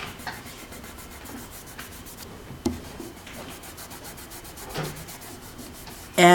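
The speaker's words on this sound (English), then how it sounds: "you just use your finger and you rub away the rubber cement" A finger rubs dried rubber cement off black leather, producing soft, steady scuffing strokes with occasional small taps, quiet and close with no talking.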